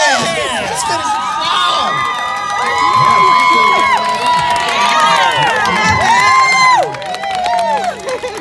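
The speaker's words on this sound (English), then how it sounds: "Give a big cheer for Anne." A crowd cheers loudly at the finish of a 5K race run for Down Syndrome awareness, with many overlapping shouting and whooping voices, including children's, sustained for the whole stretch and close by.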